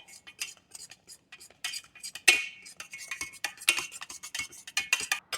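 A spoon beats thick, warm choux pastry dough in a pot until it gathers into a ball, giving repeated close scraping clacks and thuds in an uneven rhythm, with no voices.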